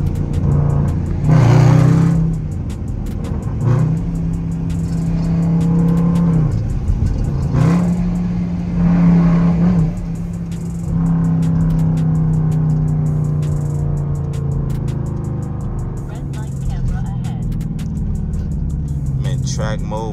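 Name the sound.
car engine revving during spin out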